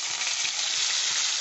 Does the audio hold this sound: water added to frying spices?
yes